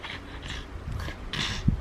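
A tired dog pants close by in a quiet indoor room, with a few soft, breathy huffs and a snort near the end, faint and brief, with no voices.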